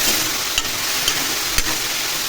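A fish oil dish sizzling in a pan, a steady dense hiss close by with three faint knocks spaced about half a second apart.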